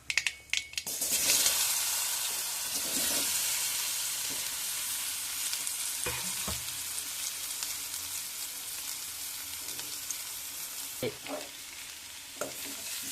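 Loud, continuous sizzling of vegetables frying in a pan with a pinch of asafoetida for a sweet potato curry, with scraping stirs and a few clinks of a utensil against the pan, no talking.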